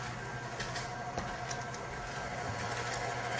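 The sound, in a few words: electric mixer running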